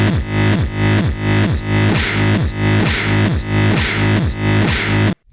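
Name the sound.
reversed granular delay with kick drum, Boss RC-505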